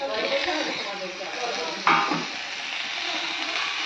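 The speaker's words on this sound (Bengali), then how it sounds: "আলু আমার কষানো হয়ে গেছে, ভেজে নিলাম ভালো করে, এইবার টমেটো আর কাঁচা লঙ্কা দিয়ে দেবো" Tomato and green chili tipped into a pan of fried potatoes set off a sudden burst of loud sizzling about halfway through, which then settles back to a steady frying hiss.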